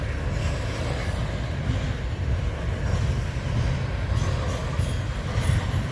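A Burlington Northern freight train rolls steadily past close by with a heavy low rumble, rattling railcars and faint high wheel squeals, continuous throughout.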